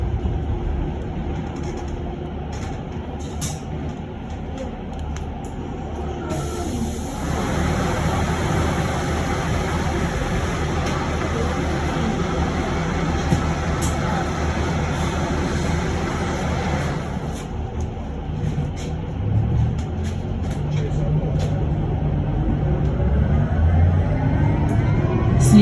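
An electric bus runs along city route C929 with a steady low rumble and whine of the drive and road noise, rising slightly as it moves, heard from inside the cabin.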